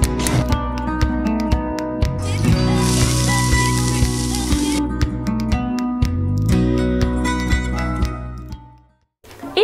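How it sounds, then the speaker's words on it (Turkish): Cubes of eggplant, soaked in water beforehand, frying in a little oil give a loud, steady sizzle that runs unbroken for most of the stretch before cutting off near the end, with music playing underneath. "İlk olarak önceden küp küp doğramış olduğum ve suda bekletmiş olduğum patlıcanları az bir yağda kızartacağım."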